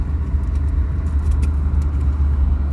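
A car rolls along a snowy road, its low, steady engine and tire rumble filling the cabin with a constant drone and a few faint rattles, no voices.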